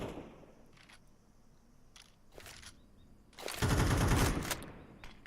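Gunfire from a Counter-Strike esports match during a pistol round, with a few faint shots early on and a louder, denser burst of firing toward the end.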